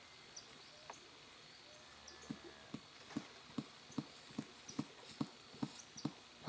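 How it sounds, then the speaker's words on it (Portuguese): A small horse rubs against a piece of wood on a farm, giving a series of soft, irregular knocks and scrapes that quicken and grow louder, close by against quiet outdoor background. "Ele tá ali encostadinho no... numa madeira se coçando"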